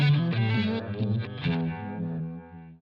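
Electric guitar through a Line 6 Helix with a tempo-synced delay and trails on, playing a distorted, chorus-tinged phrase whose repeats keep echoing and fade out over a few seconds.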